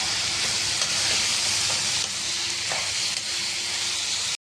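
Onions and chopped tomato sautéing in a pan for duck curry, a steady loud sizzle and hiss with a few faint stirring scrapes, continuous throughout.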